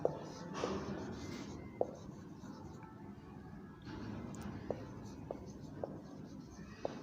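Pen writing out a sentence on paper, soft scratchy strokes with a few small taps, faint and close, while a voice murmurs quietly at times.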